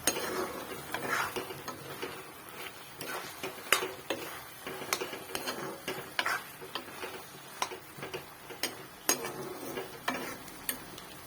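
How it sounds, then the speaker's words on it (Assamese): Fish pieces being stirred into a pan of softening elephant apple, with repeated scraping and clinking of a utensil against the pan over a faint background sizzle, close up and without voices. "মই এতিয়া যিখিনি মাছ আছিলে, এই মাছখিনি ইয়াতে দি দিম, দি পেলাই লৰাই দিম।"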